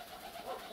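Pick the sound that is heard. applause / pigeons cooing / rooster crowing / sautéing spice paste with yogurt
pigeons cooing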